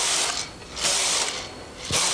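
A Brother knitting machine carriage sweeps across its needle bed knitting rows for a rib, giving loud swishing, clattering passes with brief lulls between them, heard alone.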